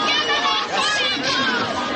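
A large crowd at a rally in Iran, a dense continuous babble of many voices close by and steady throughout.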